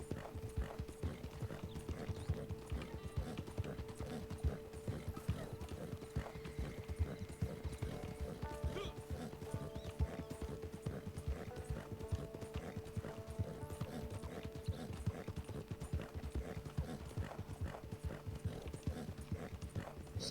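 Hooves clip-clop steadily at a gallop from a horse in the Red Dead Online video game, with a sustained tonal hum and occasional whinnies layered over the continuous rhythmic pounding.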